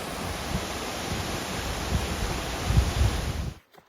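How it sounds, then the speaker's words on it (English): Water pours steadily from a reservoir outlet beside a hiking trail, a dense, close, even rushing that swells slightly near the end before cutting off abruptly. "This is an outlet from a reservoir that I don't recall the name of."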